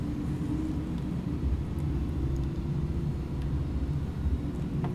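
Jet engine thrust reversers roar in Microsoft Flight Simulator, a steady, loud, dense low rumble that holds evenly throughout with no talk over it.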